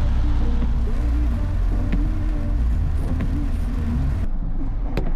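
Cars, including a Hyundai Creta, and an auto-rickshaw pass along a rainy village road, giving a steady rumble of engines and tyres close by with no talk.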